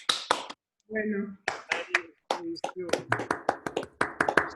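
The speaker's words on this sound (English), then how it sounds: "And clap now." An audience at a mathematics conference talk applauds the speakers with scattered, uneven claps. Voices talk among the hand claps.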